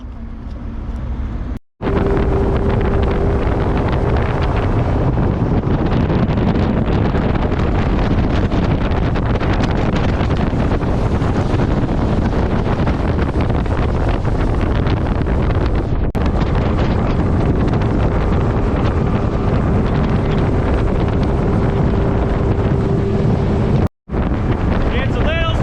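Strong gusty wind, 15 to 20 miles an hour, roars across a fishing boat out on the water. A constant loud buffeting rush fills the whole stretch, broken only by two brief dropouts.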